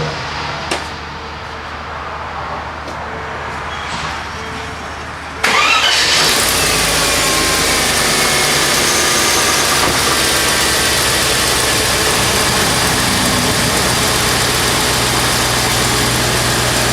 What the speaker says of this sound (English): she's idling and idling smooth